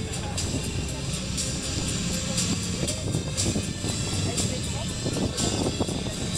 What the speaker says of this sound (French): Écoutez le bruit des moteurs, on croirait vraiment des vrais corsaires.